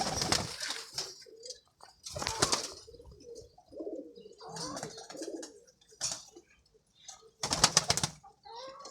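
Flying pigeons coo softly between several loud, close bursts of flapping wings.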